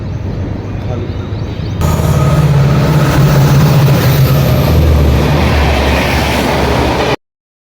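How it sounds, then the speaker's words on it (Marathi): Train pulling into a station on the Pune to Thane route, a loud continuous rumble and rattle of rail cars that swells in after a quieter opening and holds steady before cutting off abruptly. "ट्रेन पण आलेली आहे."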